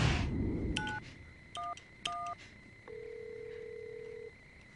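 A touch-tone telephone dials 911: three short, clear keypad beeps in quick succession, followed by a steady, longer tone, with no talking.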